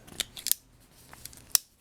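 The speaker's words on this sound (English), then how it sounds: "good old Victorinox scissors" Victorinox SwissTool multi-tool scissors snip several times in quick, crisp metallic clicks, close and isolated against a quiet background.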